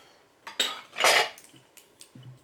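Blue and white ceramic spice jars, one labeled cinnamon, clink and knock against each other as they are picked up and set down, a few crisp, close taps with quiet pauses between.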